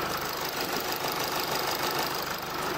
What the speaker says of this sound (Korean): 뭐 이 정도의 엔진 소음이 나고요.